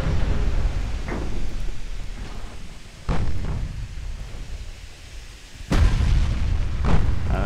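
High-explosive shells fired and bursting in the Birds of Prey game during an Austro-Hungarian naval campaign, several heavy booms spaced a few seconds apart with rumbling tails over a low, noisy background.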